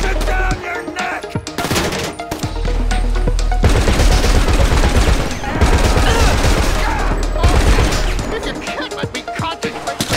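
Dense gunfire from the video game GTA: rapid bursts of shots and crashing impacts roll on almost without pause for about ten seconds, loud and close.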